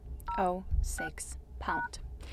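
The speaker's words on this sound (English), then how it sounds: "we have to open the dialer, of course the keypad, and enter the code, which is *#06#" Keypad tones from a Xiaomi 13T Pro dialer as a code is entered, several short separate beeps spaced across about two seconds, with a voice speaking in between and under them.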